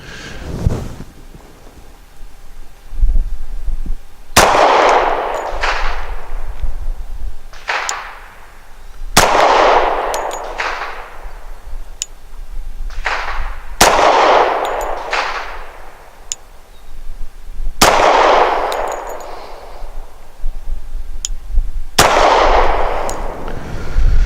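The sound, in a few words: Rock Island 1911 pistol firing AMSCS 230 grain FMJ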